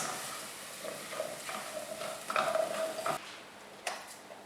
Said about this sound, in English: And give it a good stir. The masalas should coat the potatoes.